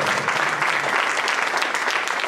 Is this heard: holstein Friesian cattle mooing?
no